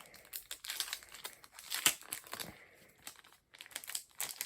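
Plastic wrapping crinkles and tears as a pack of cards for the board game Endangered is opened, close-up, with irregular crackling bursts and a few sharp snaps, no voices.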